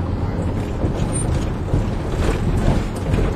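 A Mercedes Sprinter van engine brakes downhill in gear, giving a steady, loud low rumble mixed with wind and road noise throughout and no clear talk.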